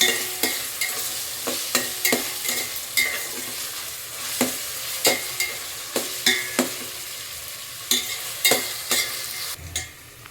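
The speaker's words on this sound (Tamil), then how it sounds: "ஆனியன் வந்து கோல்டன் ஃப்ரை ஆகிடுச்சு" Onions frying to golden with ginger-garlic for a chicken biryani, a steady sizzle broken by regular, close spoon clanks against the pot as they are stirred, with no talking.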